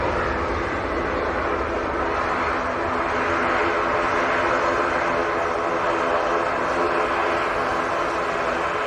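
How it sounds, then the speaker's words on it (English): A Jet2 airliner passes at Manchester Airport, giving a steady, loud broadband roar of engine noise that holds throughout without any talk. "That is Jet 2 to Barcelona"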